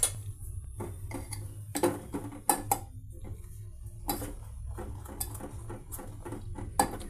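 A spoon stirring rava dosa batter in a bowl, giving faint, irregular clinks and taps against the bowl's side amid quiet background, with no talking.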